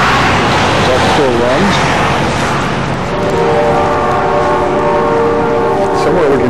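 A distant train whistle sounds during a snowstorm in Kingston, Ontario, as a sustained steady tone in the second half over constant wind and traffic roar, with a voice talking briefly early on.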